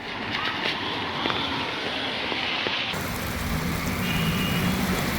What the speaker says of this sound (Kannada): ಇನ್ನು ನಗರದ ಹೊರವಲಯದಲ್ಲೂ ಭಾರಿ ಮಳೆ ಸುರಿತು